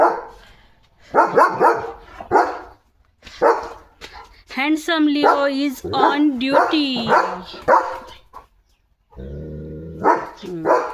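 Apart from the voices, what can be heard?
dog barking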